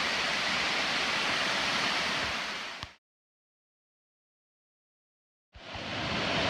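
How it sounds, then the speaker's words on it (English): Laurel Falls, a huge waterfall on a trail hike, roars as a loud, dense, continuous rush of water, cut by a few seconds of silence before the torrent returns. "we're at Laurel Falls. Huge waterfall."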